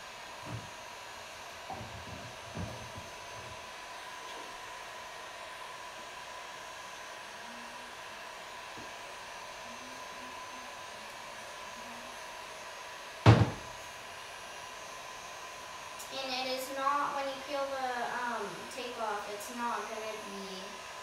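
A hot hair dryer blowing over an acrylic birch-tree painting on canvas, a steady soft whoosh throughout with a sharp knock midway and a voice speaking near the end.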